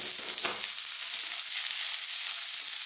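Onions and carrots hit a hot, fairly dry, smoky wok and sizzle loudly, with a brief stir clatter near the start before a steady hiss.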